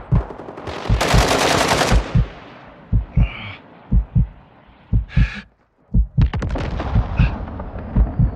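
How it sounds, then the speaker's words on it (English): Gunfire in Call of Duty: Modern Warfare II, a loud automatic burst followed by heavy, booming single shots at a steady pace, with brief radio-like chatter between them. "Receiving fire!"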